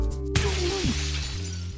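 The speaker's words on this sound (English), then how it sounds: "I smash through the windshield with the same speed as the car had before it crashed" A car windshield shatters in a crash: a sudden loud burst of breaking glass, then a sustained crackling spray of fragments over a low droning tone.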